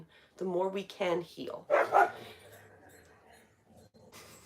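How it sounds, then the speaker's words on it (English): A dog barks in the background with a few short yips while someone speaks calmly over it, the barks mingled with her voice early on before things go quieter. "that was my dog you might have heard in the background"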